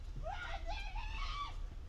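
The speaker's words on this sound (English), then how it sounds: "somebody is screaming for second placer to run" A spectator screams encouragement at a school cross country race, a single sustained, wavering high-pitched yell from some distance over steady outdoor wind and crowd noise.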